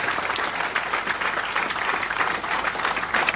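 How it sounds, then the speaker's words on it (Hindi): An audience at a motivational business speech claps loudly and steadily for several seconds, a dense, even wash of applause with no pauses. "मेरा भी फर्ज बनता है कि एक जोरदार तालियां इनकी मेहनत पर आपको बजाना"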